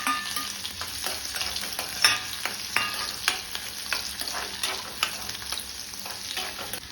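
Onion sizzles in a pan of hot oil with green chillies for a Malvani kulith pithi, stirred with repeated scraping strokes over a constant close crackle, no voices.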